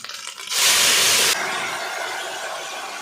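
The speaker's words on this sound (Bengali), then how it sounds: "এবার আমি এখানে দেখো তরকারিটাকে ঢেলে দিচ্ছি।" A Bengali jhol bora curry is poured into a hot tempering of oil with ginger paste and erupts into a loud, bright sizzle. The sizzle lasts under a second, then settles into a softer, steady frying hiss.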